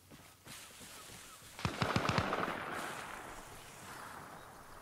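A quick burst of several gunshots rings out in the Arma Reforger DayZ mod video game, sharp cracks in rapid succession followed by a lingering echo over the game's ambient background.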